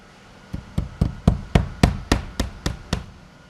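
A hammer drives nails into board and batten vertical wall panels with about ten sharp, evenly spaced knocks in quick succession, close and distinct, with no speech.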